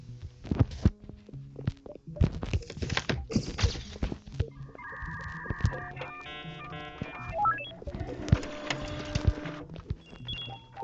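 Printers whirring and clunking in an animal hospital video game, a run of short mechanical thunks followed by buzzing feed and beeping tones, fairly quiet and busy.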